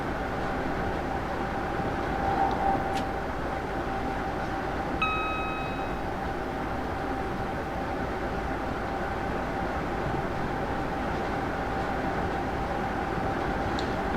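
Simulated mail train running on the West Coast Main Line North in Train Sim World, a steady low rolling rumble with a faint hum and brief tonal beeps partway through, no voices.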